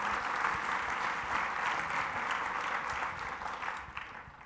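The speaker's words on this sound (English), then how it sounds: "a warm round of applause for those individuals" Audience at a college academic affairs program review applauding departing faculty, steady even clapping from a room full of people, moderately loud and continuous, fading slightly at the end.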